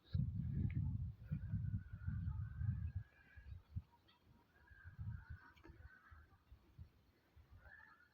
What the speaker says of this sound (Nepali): चराहरू कराएको सुन्दा नि डरै लाग्छ।